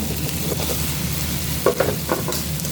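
Chicken frying in a pan, a steady close sizzle with a few brief stirring scrapes and clanks, no voices.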